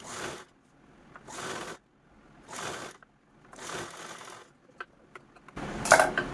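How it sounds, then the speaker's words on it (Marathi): Sewing machine stitching a double-folded fabric strip, running in short bursts of rapid whirring separated by pauses, close and fairly quiet, with a sharper click at the end. "आतील साईडने डबल फोल्ड करून स्टिच करून घेऊ"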